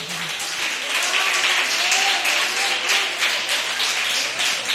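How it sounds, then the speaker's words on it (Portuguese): A congregation applauds the Lord during a Portuguese-language Sunday service in a sustained, even roar of clapping that holds steady throughout, with faint voices underneath. "Aplauda ao Senhor."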